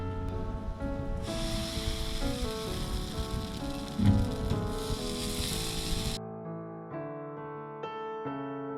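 Kerala palappam batter cooks in a pan over a medium flame, giving a steady soft sizzle that runs under loud, continuous music.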